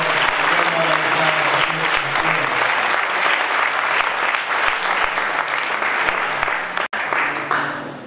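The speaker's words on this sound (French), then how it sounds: "On applaudit le Seigneur encore." A church congregation applauds the Lord, long dense clapping from many people at steady volume with a few voices and tones mixed in, a brief dropout near the end before it carries on.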